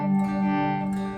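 Electric guitar chord swelling in from silence as the volume is rolled up after a soft pick, sustained with delay and reverb, ringing steadily and fading slightly at the end, heard alone.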